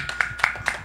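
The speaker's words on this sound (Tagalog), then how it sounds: "Pwede po ba natin bigyan ng malakas na palakpak ang Diyos" A church congregation claps in a few soft, separate bursts, with three brighter hits standing out, fairly close and brief, with no talking.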